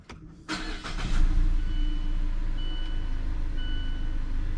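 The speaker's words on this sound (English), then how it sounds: "So press the brake pedal, start it up." A 2016 Mazda 6 engine cranks briefly and catches, then settles into a steady, close idle, with a few short electronic tones chiming over the running engine.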